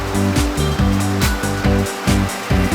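Turbulent river water rushes loudly and steadily close by, with rhythmic surging pulses and no voices.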